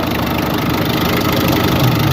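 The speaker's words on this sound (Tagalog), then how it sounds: "Malagatak kasi old school diesel engines yan ha" A second-hand car's old school diesel engine idles, a loud steady clatter and rumble with a rough, knocking edge, heard up close with no talk.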